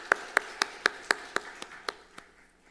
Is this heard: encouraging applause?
yes